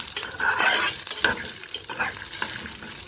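Green chillies fry and get stirred in a hot pan while making chukkakura pachadi, with a steady sizzle and a spoon scraping through them in repeated strokes, close and fairly loud with no voices.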